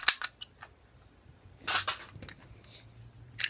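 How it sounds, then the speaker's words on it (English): A toy fake gun making pow-pow sounds: a few sharp, fairly faint pops and clicks spaced irregularly over quiet room tone. "And then a fake gun that makes the pow-pow sounds."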